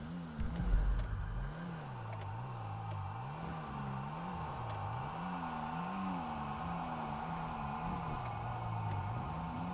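A vehicle engine in the game GTA RP revs and accelerates repeatedly, its pitch swinging up and down in a wavering rhythm, moderately loud and close, with a thump near the start and no talk.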